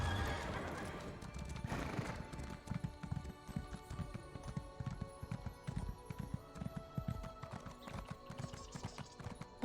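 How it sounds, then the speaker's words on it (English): A ghostly horse mount in Elder Scrolls Online gallops with rapid, repeated hoofbeats and lets out a neigh near the start, steady clip-clop rhythm continuing at moderate loudness to the end. "I like the Ghost Horse."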